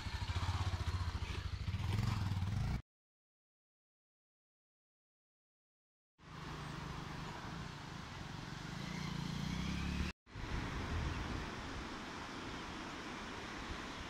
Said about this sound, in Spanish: Motos pasando, hacen recorridos en moto.